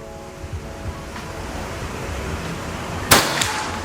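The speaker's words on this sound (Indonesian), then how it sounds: "Kita lanjut lagi ke tembakan yang keempat." A single sharp shot from a PCP air rifle with a 500cc Bocap reservoir, fired at a target outdoors, cuts through steady wind noise, followed by a fainter impact snap a moment later.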